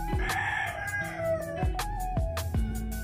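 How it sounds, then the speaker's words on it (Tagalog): A rooster crows in the background, its long call stretching across the clip, while scattered sharp knocks and clinks ring out over a steady low hum. "May tumitila ako ng manok pa."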